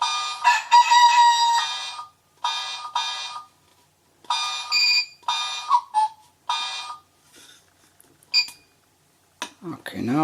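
An alarm set for 12:50 a.m. goes off as a series of loud, bright electronic tone bursts, each about a second long with short gaps between them, and a brief sweeping sound at the end.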